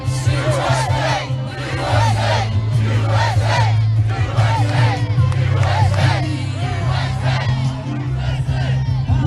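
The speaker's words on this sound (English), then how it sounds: "Can we get a USA chant?" A large rally crowd of supporters chants in a loud, rhythmic repeated two-beat pattern, roaring close and dense with cheering mixed in throughout.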